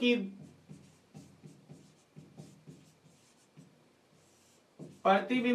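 Chalk or marker writing on a board, a series of short scratchy strokes in an uneven rhythm, close and clear, with a person speaking at the start and the end.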